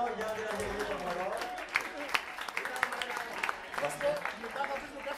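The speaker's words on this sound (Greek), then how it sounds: "Ένα χειροκρότημα μεγάλο για την Αγγελική των Μωρών." Audience applause during a karaoke night, with a crowd clapping steadily throughout under an ongoing murmur of voices, several louder claps standing out toward the middle and end.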